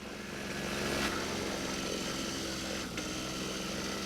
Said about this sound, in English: Something interesting going on with the engine there.